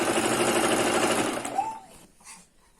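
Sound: sewing machine stitching a sleeve seam toward the shoulder

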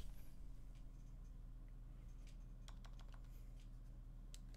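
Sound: typing on PinePhone Pro keyboard

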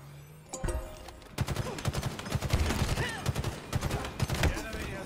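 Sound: gunfire in Halo Infinite video game

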